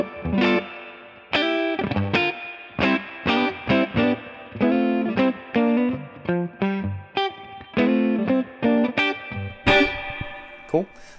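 A Strat electric guitar plays a clean tone through a Mythos Oracle analog delay pedal: plucked notes and chords in a steady phrase, each attack trailing soft echo repeats, loud and close.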